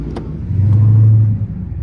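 A Chrysler 300 SRT 392 V8 idles with a steady low rumble, swelling briefly louder through the middle before settling back, close by with no voices.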